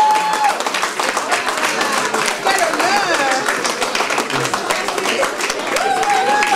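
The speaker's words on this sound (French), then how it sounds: "S'il vous plaît, on applaudit bien fort." A crowd at an Afro-themed evening gala claps loudly and steadily, a dense continuous patter of many hands with some scattered voices and cheers mixed in.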